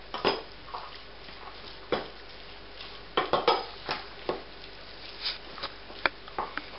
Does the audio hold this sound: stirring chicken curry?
yes